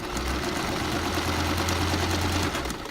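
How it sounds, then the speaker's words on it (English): A sewing machine stitches along folded-over valance fabric, its motor humming and needle rattling in a steady, loud, close run throughout. "again I'm going to sew it all the way to the end"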